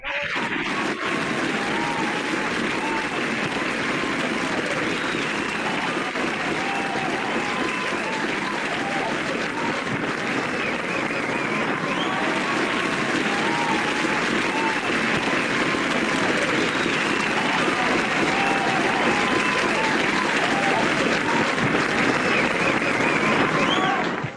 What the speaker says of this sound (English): you don't know the skill it took to insert that awkwardly long applause